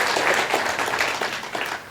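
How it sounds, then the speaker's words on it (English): An audience claps in a dense, sustained burst of applause that holds steady and loud throughout. "Give yourselves a round of applause because you helped do that 13 million."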